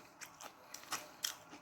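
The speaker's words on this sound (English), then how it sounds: "The bread is so crunchy." Biting into crunchy French bread topped with raw steak tartare: a few soft, close crunches and crackles in quick succession, quiet and without talk.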